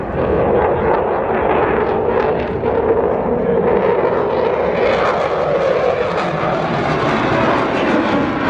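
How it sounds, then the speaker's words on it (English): A military jet roars loudly and continuously through an air display manoeuvre, snapping back into positive G after a sustained negative G turn, with a broad, steady engine rumble rising slightly in pitch. "Snapping the aircraft back into positive G now."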